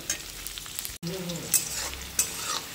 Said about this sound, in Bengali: তো চলো বন্ধুরা, এটা আমি তাহলে ভেজে নিই।